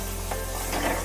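A garlic, ginger and turmeric paste frying in hot oil gives a continuous close sizzle, with a couple of soft scraping strokes as it is stirred.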